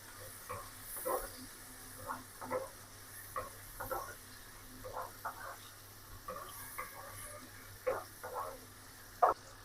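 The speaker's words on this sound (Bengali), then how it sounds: "এই মশলার ভিতরে আলু দিয়ে দেবো। আলুটা কষাই নেব।" Potatoes fry and get stirred into a spice masala with Bengali home-style cooking sounds: a quiet, low sizzle broken by repeated spatula scrapes and taps at an uneven rhythm.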